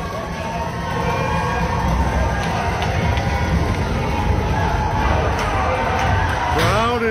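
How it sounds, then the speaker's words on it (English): A hockey crowd at a 12U district championship game rises to its feet before the opening face-off at center ice. Steady, dense roar of cheering and shouting throughout, with an announcer speaking over it. "Crowd is on their feet."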